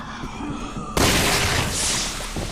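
Gunshot headshots in the video game Resident Evil 6: a sudden loud burst about a second in gives way to a dense, noisy crackle of game action, with a brief second hit near the end.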